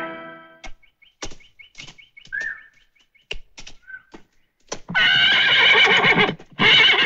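A horse whinnies loudly and at length near the end, preceded by scattered hoof clops, bird chirps and a brief whistle-like tone, in an outdoor rural film scene.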